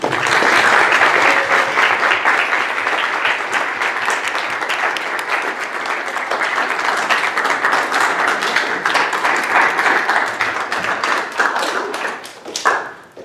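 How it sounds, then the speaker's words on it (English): An audience at a National Honor Society induction ceremony applauds the new members, a loud, sustained crowd of clapping hands that carries on for several seconds before tapering off with a few last claps. "Please join me in applauding once again our National Honor Society members."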